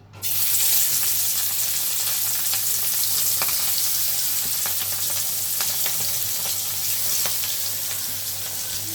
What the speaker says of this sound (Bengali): এখন মাছ ভাজতে দিব। কড়াই আমি তেল দিয়ে দিছি, তেল গরম হয়ে গেছে।